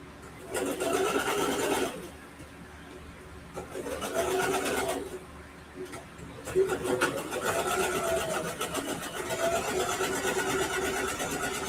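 A home sewing machine stitching the corners of a quilted ruffle backpack pocket, running in several steady whirring bursts with short pauses between them, close and moderately loud.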